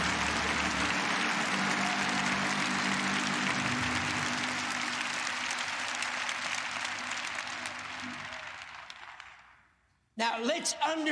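A congregation bursts into loud, sustained applause that fills the space for about ten seconds, then fades before a voice speaks.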